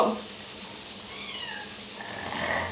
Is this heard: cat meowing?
yes